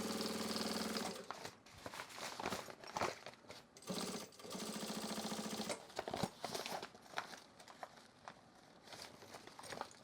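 Sewing machine stitching a duffle bag panel in bursts: rapid buzzing rattle runs of a second or two, separated by brief pauses and clicks, close and moderately quiet, with no talk.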